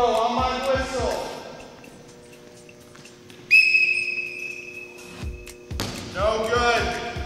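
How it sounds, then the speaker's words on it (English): A referee blows a single loud, sustained whistle blast to start a dodgeball throw in a team challenge, with people talking before and after it and a few thumps around it. "Dodgeball throw on my whistle."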